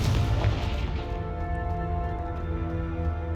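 A Confringo fire spell explodes in Hogwarts Legacy inside a cave, a loud booming blast at the start that rolls off into a long, rumbling decay.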